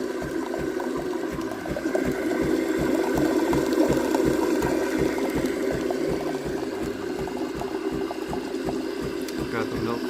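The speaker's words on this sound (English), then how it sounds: "Got the milk frothing." Miele CVA 4070 super automatic espresso machine frothing milk: a steady rhythmic pumping rattle with a bubbling hiss, continuous and close, while a person talks over it.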